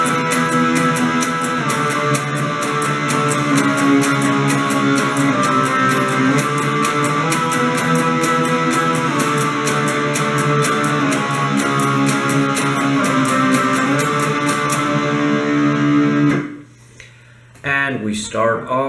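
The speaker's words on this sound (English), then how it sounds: "Now let's get to the parts with an actual guitar in them, and we start with the verse" Guitar playing the verse of a song, a dense, steady strummed part with a bright ticking pulse, loud and continuous before stopping abruptly near the end.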